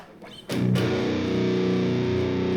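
An electric guitar chord struck once through an MXR Distortion Plus pedal emulation on a Zoom G1Xon, fuzzy and saturated, ringing out and sustaining evenly after a brief quiet lead-in.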